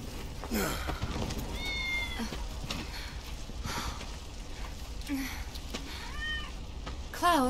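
A cat in Final Fantasy VII Remake gives several short, chirpy meows scattered across the clip, some close together, over a quiet game ambience.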